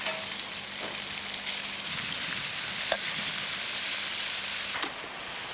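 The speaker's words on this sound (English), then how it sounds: "While that fish is cooking in the pan" Small pieces of trevally fish frying with onions in an oiled pan over a campfire, a steady close broadband sizzle with occasional soft crackles and a few brief stirring clinks, no voices.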